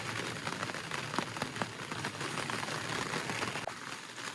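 Rain pattering steadily on the roof of a Toyota 4Runner fitted with an OpenRoad 4WD 180 awning, a continuous dense hiss with scattered sharper drops, close and fairly quiet, with no talking.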